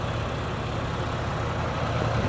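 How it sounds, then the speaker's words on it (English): The 3.5 V6 of a 2017 Toyota Sienna LE mobility van runs steadily with the hood open, a constant close-up mechanical hum and whir with no variation. "So let me pop the hood so you can listen to it run"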